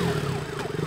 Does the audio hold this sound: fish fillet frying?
no